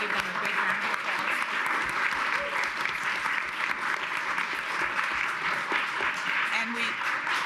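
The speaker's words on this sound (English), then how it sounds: "Let's give them a big round of applause." A big round of applause from the audience at a county council caucus meeting, many hands clapping in an even, continuous patter that holds steady throughout, moderately distant with a room's reverberation.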